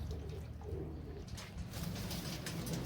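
Domestic pigeons kept for competitive flying coo steadily in a netted loft, a low, continuous throaty murmur running through the whole stretch with overlapping calls and faint background rustle, no talking.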